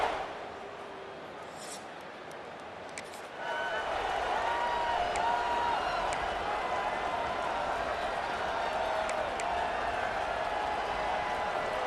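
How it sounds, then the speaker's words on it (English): A stadium crowd roars in the EA Sports College Football 26 video game, at a Penn State versus Ohio State rivalry matchup. The roar swells after a quieter opening and holds as a dense, sustained wall of cheering. "This crowd ready to make its presence known."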